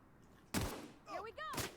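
Gunshots in The Outer Worlds, two loud sharp blasts separated by a brief pause, with a voice speaking between them.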